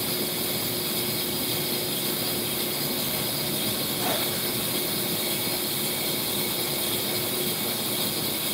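A brake lathe turning a car brake rotor, a steady loud mechanical whir with a hissing cutting sound that holds constant throughout, no talking.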